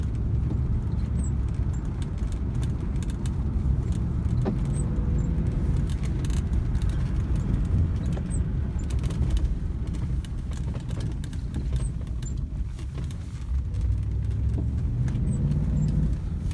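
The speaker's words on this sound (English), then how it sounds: "you can just hear that roar of the V8" A Rolls-Royce V8 engine rumbling steadily from inside the car, a deep continuous drone with a rise in revs near the end.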